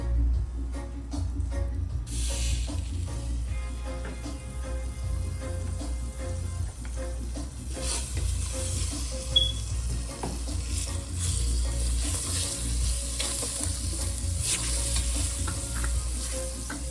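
Butter sizzling in a pan while a wooden spoon stirs it, a steady close frying hiss with scraping strokes of the spoon running throughout, no talk.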